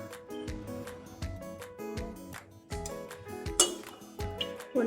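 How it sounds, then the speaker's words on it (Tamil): Metal cookware clinks and rings as a pressure cooker is lifted out and set down in a home kitchen while preparing Chettinad mutton kulambu, with several sharp, close knocks and pings in a short sequence. "இப்போது மட்டன் தாளிக்கிறதுக்கு குக்கர் எடுத்து வச்சுக்கலாம்."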